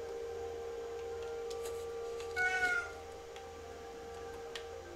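A pet cat named Roast Beef gives a single short meow, near and fairly clear, over a steady electronic hum in a quiet room, with no talking.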